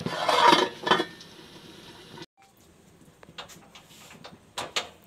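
A metal lid set down on a cooking pot of shalgam gosht (turnip and meat curry), opening with a loud scraping clatter of metal, then a couple of softer clinks and light taps from the stovetop.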